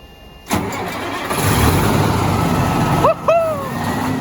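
A car engine cranks and fires up, then settles into a loud, steady run with exhaust blowing out the top; a brief dip and restart occur near the end, with a rising whine.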